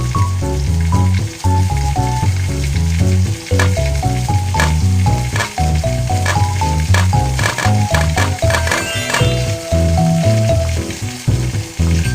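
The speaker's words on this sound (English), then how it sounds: "It's time to fry the dough sticks." Dough sticks fry in oil in a BabyBus cartoon cooking game, with a loud, continuous sizzle and bubbling running over bright, bouncy game music and no speech.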